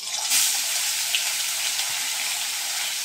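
Two fish weighing about 400 grams together fry in a pan, giving off a loud, steady, unbroken hiss of hot oil.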